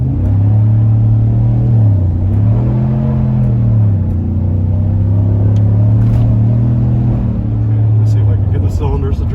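A 2021 Chevy Silverado with the 6.2 V8, 10-speed transmission and muffler delete pulls away on a wet road, its loud, deep exhaust droning steadily and rising and dipping in pitch as it accelerates through the gears.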